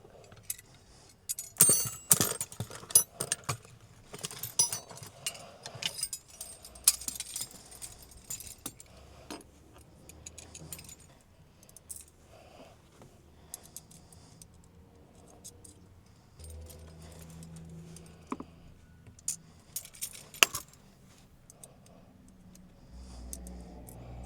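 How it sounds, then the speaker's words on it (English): Small metal clicks, taps and jingles from fire extinguisher bracket hardware being fastened with two 8mm spanners on a Porsche, irregular and close, with quieter pauses and a few sharper clinks. "Then tighten those up with the two 8mm spanners."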